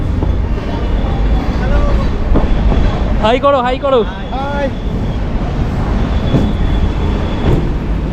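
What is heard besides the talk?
Howrah local train running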